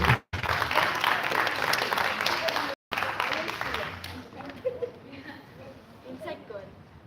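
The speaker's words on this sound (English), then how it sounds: "Come on, friends. A round of applause for everyone." Clapping fills the room at the final day of a residential space camp, with a dense round of applause broken by two brief cuts, then fading into scattered claps with talking over it.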